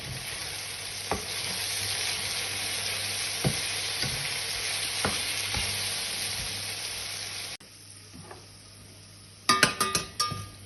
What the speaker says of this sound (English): you're just going to fry it